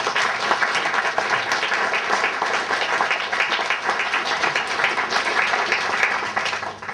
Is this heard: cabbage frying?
no